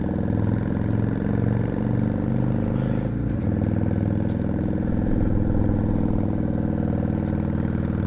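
A 2002 Yamaha XVS650 V-Star motorcycle with loud aftermarket exhaust pipes idles steadily, a deep throbbing rumble that shifts briefly around the midpoint before settling back into a loud, continuous lope.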